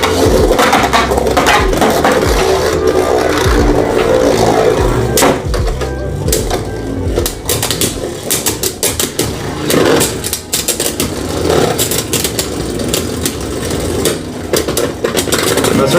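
Beyblade Burst tops, including World Spriggan in defense mode, launched and clashing in a stadium: a dense, continuous whirring and grinding rattle with sharp clacking hits, loud and close throughout.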